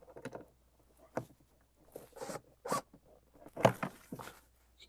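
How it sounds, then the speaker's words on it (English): A protective cover is pulled off a Can-Am Spyder after a number 30 Torx fastener is removed, giving a series of short scraping and rustling bursts with quiet gaps between them, close and moderately loud, with no talking. "you're going to want to pull this cover off"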